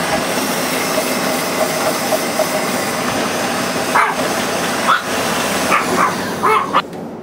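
A food mixer runs at full speed, churning sticky homemade dog food for a Chihuahua with a steady motor drone, its load shifting in a few brief bumps near the end.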